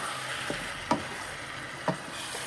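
Ackee and saltfish sizzling and frying in a pan, a steady soft hiss broken by two sharp clatters as food is dumped in.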